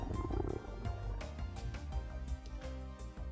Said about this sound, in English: My stomach rumbled loudly.